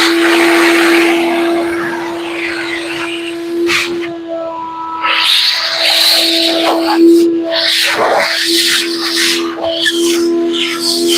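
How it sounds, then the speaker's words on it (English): A shop vacuum cleaner sucks wood dust off a carved wooden knife sheath, a loud steady whine and hiss that briefly drops out and returns with shifting airflow as the nozzle moves over the piece. "I'm gonna get the vacuum and suck all the dust off of it, out of it"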